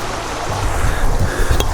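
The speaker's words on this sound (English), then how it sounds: "We've got a lovely little brook here, just running underneath a little footbridge." A small brook runs beneath a little footbridge on a sunny day, giving a loud, continuous rushing wash of water with some low rumbling buffeting throughout.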